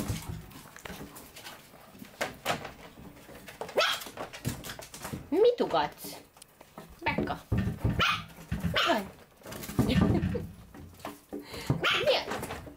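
An eight-week-old miniature pinscher puppy yaps in short, high bursts scattered through the scene, close by and mixed with frequent talk from people nearby.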